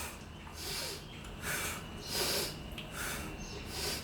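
Sharp, forceful exhalations puff out during an online fitness class workout, about five rhythmic breaths, each roughly a half-second burst, close and clear with no talking.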